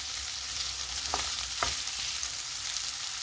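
Onions being stirred in a frying pan, a steady hiss of sizzling oil with a couple of brief scraping stirs of the utensil against the pan.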